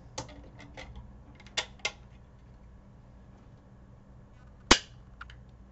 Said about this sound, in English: Snap your base plate over the rails and onto the magazine shell until you hear the floor plate